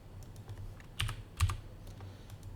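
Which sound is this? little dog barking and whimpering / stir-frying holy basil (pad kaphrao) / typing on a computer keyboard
typing on a computer keyboard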